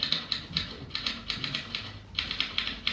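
Typewriter keys struck in quick irregular bursts of sharp clacks, close and fairly quiet, with a brief pause midway before the rapid typing resumes, no talking over it.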